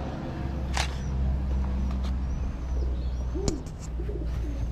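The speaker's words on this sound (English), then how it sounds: "I hear some like baby pigeons." Baby pigeons coo softly in short, scattered calls inside an abandoned ice skating rink, against a low ambient rumble, with a few sharp clicks from a camera shutter.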